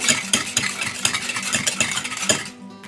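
An egg is whisked in a bowl with a steady clockwise rolling motion, making quick rhythmic scraping strokes that are close and fairly loud. The strokes stop abruptly near the end.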